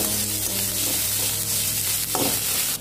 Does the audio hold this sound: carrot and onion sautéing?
yes